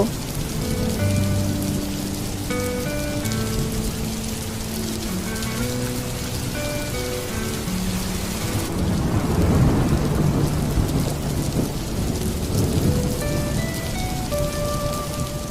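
Steady rain with rumbling thunder runs throughout, a heavier surge of downpour and thunder swelling midway, with soft tonal music playing over it and no talk.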